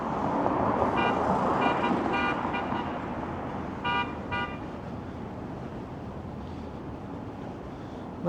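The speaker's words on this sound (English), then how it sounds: "I wasn't expecting to get honked at walking on a sidewalk in Rexdale." Several short car horn toots sound in quick bursts over steady traffic noise on Rexdale Boulevard in Toronto, a pair near the start and another pair midway.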